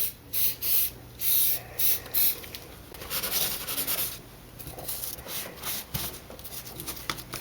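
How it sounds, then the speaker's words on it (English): Cleaner sprayed onto a paper towel in a run of short, hissing bursts, followed by soft rubbing and wiping while a Spyderco Delica 4 knife is cleaned close up. "I'm just going to get a paper towel and spray it down."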